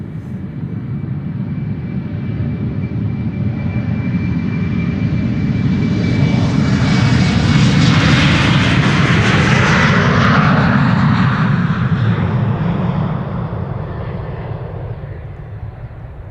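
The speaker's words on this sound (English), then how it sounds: "BA, going to London City, Embraer 190." A British Airways Embraer 190 jet at Schiphol heading for London City roars past close by, the engine noise rising to a loud peak midway with a sweeping pitch shift, then fading.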